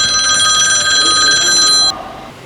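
A telephone rings steadily for about two seconds, a bright continuous electronic trill that cuts off abruptly, leaving quiet room tone; no one speaks over it.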